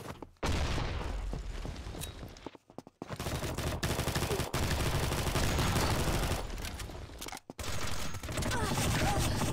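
Rapid automatic gunfire from the Combat Master mobile shooter on Android, sustained loud bursts of shots with two brief pauses, no voices.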